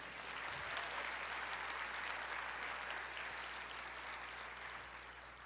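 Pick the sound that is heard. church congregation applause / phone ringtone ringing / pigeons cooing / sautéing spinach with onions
church congregation applause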